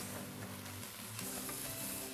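Steady, loud sizzling of chopped onion and garlic frying in a hot pan, continuous and close, with faint stirring texture and no talk.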